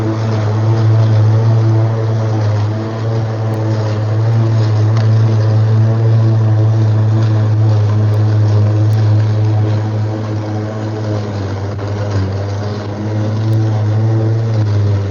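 A Milwaukee M18 FUEL battery lawn mower cuts grass with a loud, steady whirring hum that holds constant throughout, close by, with no talk.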